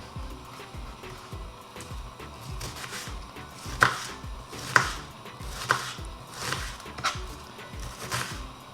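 Onion being chopped into small pieces with a knife, a series of sharp board taps, some spaced and some in quick runs, close and clear with no talk.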